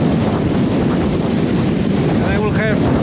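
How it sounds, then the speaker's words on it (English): Strong wind roars across an open Scottish moor in a steady, broadband rush that stays loud throughout, with brief whistling tones near the end. "I will have the wind directly in my face"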